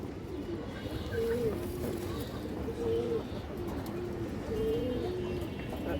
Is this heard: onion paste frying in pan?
no